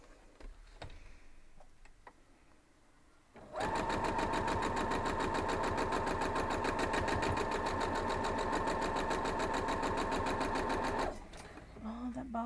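Sewing machine stitching a quilt block, a rapid, even mechanical ticking run that starts abruptly, holds loud and steady for about seven seconds, then stops, with quiet handling sounds before and after.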